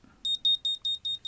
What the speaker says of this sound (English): So I'm going to set the alarm off